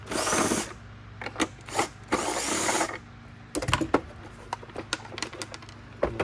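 Two screws are backed out of the rear of a Riccar Supralite vacuum's purple cover with a power driver, bursts of whirring alternating with clicks and rattles of handling, close and clear.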